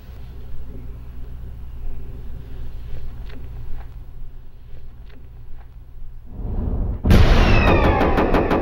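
A hunting rifle fires at a deer about 200 yards away, a single loud sharp shot cracking out over quiet outdoor rumble near the end, with its echo and report rolling on afterward.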